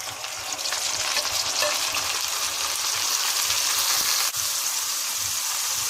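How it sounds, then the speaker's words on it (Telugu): Tomatoes sizzle and fry steadily in a hot pan for wuggani, a continuous close crackling hiss with a brief knock near the end and no talking. "ఇప్పుడు టమాటాలు వేసుకోవాలి."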